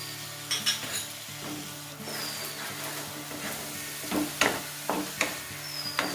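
Ginger, green chilli and tomato paste sizzling as it hits fried garlic in a pan while chana masala gravy is being made, a steady close frying hiss broken by several sharp stirring and utensil clatters.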